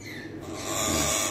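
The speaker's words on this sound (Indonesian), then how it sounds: "Burung nuri." A caged Ternate lory, a nuri parrot, gives a short, hoarse call lasting just over a second. The call swells slightly toward its end, with no talking over it.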